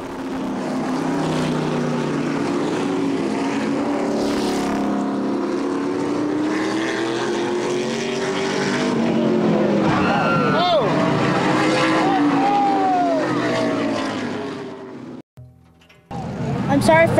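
Race car engines roar together at the start of a race, a sustained loud drone with rising and falling pitch sweeps as cars pass, then a brief drop before the noise returns; a voice comments over it.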